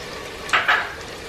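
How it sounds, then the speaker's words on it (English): Two quick scraping strokes of a spoon stir whole spices into goat chops in a pan, close and short, over a steady background hiss. "stir that in very carefully, because I don't want to break the meat"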